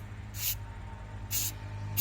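Two short, bright hissing sprays of patina ink from a bottle nozzle onto a stainless tumbler, separated by about a second, with a third just starting at the end; close and crisp.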